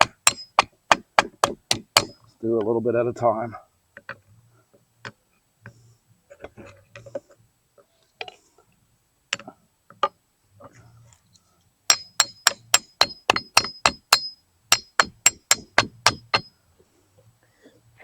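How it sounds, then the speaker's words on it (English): Sharp metallic hammer blows ring out in rapid bursts on a Toyota Tundra driveshaft center support bearing, with pauses between volleys and a brief spoken remark partway through. "Just wail away at it with the hammer"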